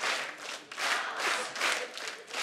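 A comedy show studio audience applauding steadily, dense clapping that swells and dips in waves, with a faint cheer mixed in.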